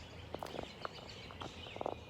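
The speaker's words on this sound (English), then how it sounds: "I don't know if you can hear the birds around" Birds chirp around a creek outdoors on a cold day, several faint short calls scattered over soft background noise.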